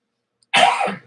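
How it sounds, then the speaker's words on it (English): A single harsh cough, close and loud, lasting about half a second after brief silence. "Just cough it out"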